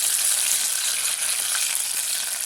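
A steady, even sizzle of onion and tomato paste frying in a pan, a constant hiss with faint crackles and no talking.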